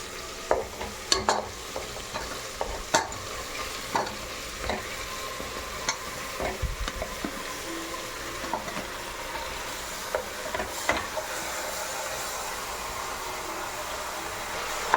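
About 1.5 kg of chicken goes into a pan of fried onions and softened tomato, giving a soft continuous sizzle punctuated by scattered sharp clinks and scrapes of stirring.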